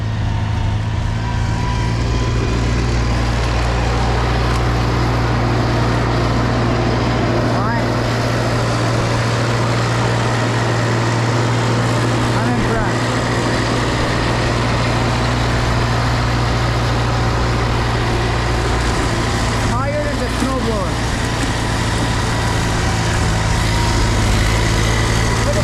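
A tractor engine idling steadily after warming up in snow, a constant low heavy rumble with a throbbing hum, close and loud for the whole stretch, with faint knocks and scrapes in the background.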